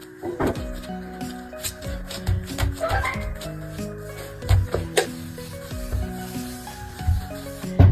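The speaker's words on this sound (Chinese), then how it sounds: "給它擀成薄厚均勻的大薄片，盡量是越薄越好，但是不要給它擀破了" A rolling pin rolls out layered pastry dough, a water-oil dough wrapped around an oil-paste filling for pork floss pastries, on a board: repeated rubbing strokes with soft knocks in an irregular rhythm, close and fairly quiet, with no speech.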